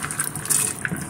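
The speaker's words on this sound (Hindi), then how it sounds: "थोड़ा सा पानी ऊपर डालेंगे ताकि ये चने की दाल अच्छी सी गल जाए।" Water poured over chana dal in a cooking pot, after the keema (minced meat) masala, for keema karela chana dal; a short, soft splashing pour, close and fairly quiet, with no talk.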